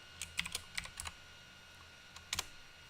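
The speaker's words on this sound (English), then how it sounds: "I'm just over here typing G91." Short bursts of key presses on a computer keyboard as a G-code command is entered for a 3D printer, clustered clicks near the microphone, then a pause and a final quick pair of taps.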